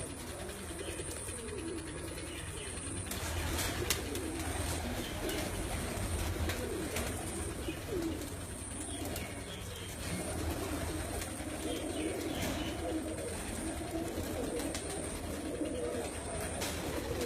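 Pigeons cooing at a pigeon-flying competition, soft repeated coos and bird calls amid a continuous outdoor background hum, moderately faint and steady throughout.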